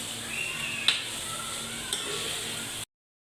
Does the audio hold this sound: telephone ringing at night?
no